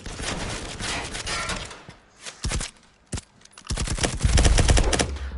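Firewall Zero Hour gunfire: several loud bursts of rapid automatic fire separated by short gaps, close and dense, with no speech over it.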